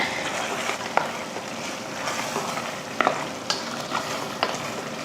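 Steady sizzling and frying of mutton with chili powder, with occasional scraping stirs of a spoon in a pan, close and continuous, no talking.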